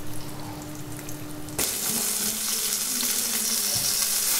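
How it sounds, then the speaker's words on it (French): Veal escalope wrapped in ham frying over high heat on an electric stove, a loud steady sizzle that jumps sharply when the meat is turned, close and continuous with no talking. "donc là on a notre escalope qui cuit sur la face jambon"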